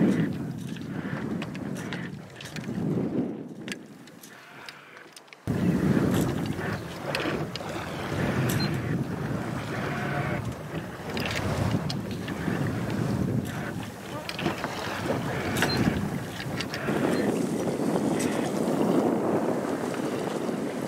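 A 19-foot sailboat under sail near Pillar Point, with steady wind rushing over the microphone and water washing along the hull, loud and continuous throughout; a brief lull comes near the start before the wind gust returns.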